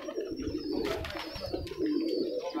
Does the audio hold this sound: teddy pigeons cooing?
yes